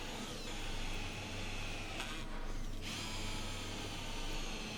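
A power drill with a 3/4-inch Forstner bit bores recess holes in wood for a furniture post, a steady close whine that briefly shifts pitch midway through.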